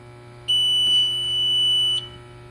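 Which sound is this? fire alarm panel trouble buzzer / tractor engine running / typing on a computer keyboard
fire alarm panel trouble buzzer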